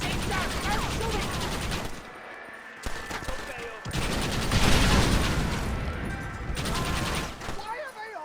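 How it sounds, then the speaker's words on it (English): Shootout gunfire from the western game Red Dead Redemption, in a Mexico setting: bursts of rapid shots in two dense stretches broken by short lulls, with voices talking over the firing. "Why are they all shooting at me?"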